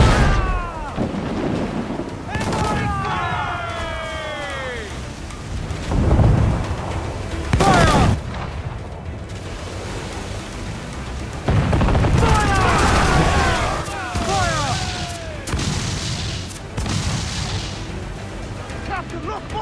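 Mortar and cannon fire booming across a naval battle in Assassin's Creed IV: Black Flag, heavy thuds and blasts recurring amid rumbling chaos, with crew voices shouting over the barrage.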